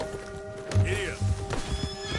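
A horse in Red Dead Redemption gives a short, loud whinny with snorting and a hoof thump, close up over a game music bed.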